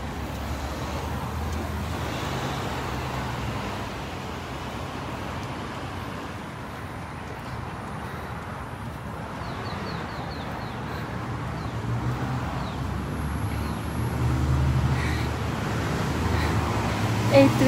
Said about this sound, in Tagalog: Bakit traffic dito?